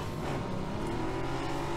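A vehicle driving in the PUBG video game gives off a steady, loud engine roar with road and tire noise, continuous and unbroken, with no talking.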